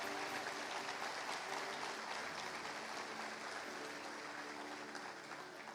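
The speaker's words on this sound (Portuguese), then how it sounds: "dê uma salva de palmas bem forte a Jesus Cristo" A church congregation gives Jesus Christ a strong round of applause during a sermon, a steady dense wash of many hands clapping throughout, sustained and fairly distant, fading slightly at the end.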